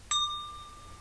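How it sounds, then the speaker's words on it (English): One bright bell strike rings out during a bedtime yoga session, a clear close ding whose pure tone slowly fades over the following second, with no talking. "When I ring the bell"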